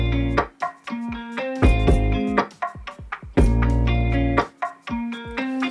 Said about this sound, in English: percussion loop found on Splice. It's kind of like lo-fi hip-hop